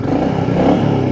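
A Royal Enfield Meteor 350 motorcycle with its stock exhaust gives a steady, loud, close thumping idle with a mellow tone in a short burst, heard alone.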